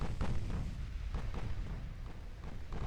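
Naval gunfire aboard a battleship in Ultimate Admiral: Dreadnoughts: a steady barrage of deep, rumbling booms and thuds repeating every fraction of a second over a continuous low roar, with no voice present.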